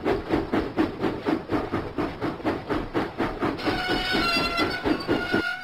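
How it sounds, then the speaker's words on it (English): A steam locomotive in a Thomas & Friends video game chuffs in an even, rapid rhythm of puffs. Near the end the puffing gives way to a sustained whistle-like tone. "James pumped his pistons and puffed out of the docks."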